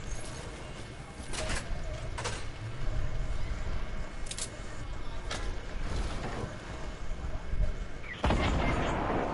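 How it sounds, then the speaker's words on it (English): A grenade explosion in a video game, heard as a faint, muffled blast late in the clip amid scattered distant gunfire and low background rumble. "He grenaded me."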